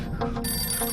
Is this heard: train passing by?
no